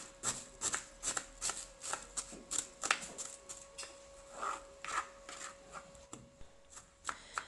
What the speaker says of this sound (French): j'ai commencé par couper l'oignon en petits cubes.